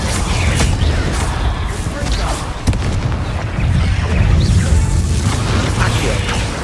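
Spell blasts in the Hogwarts Legacy video game, including Confringo, heavy booms and bursts layered over dense, loud combat noise and a rumbling low end, continuous across the clip with a sharp hit near the middle.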